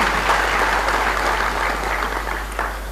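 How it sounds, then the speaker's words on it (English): Dense, continuous applause from a large audience greeting President Muhammadu Buhari at the launch of a unity band, loud and sustained across the whole stretch, easing slightly toward the end. "Put your hands together, ladies and gentlemen."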